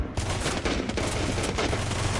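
Rapid video game gunfire in a competitive match, a dense run of sharp shots punching through a wall, loud and continuous, with no talk over it.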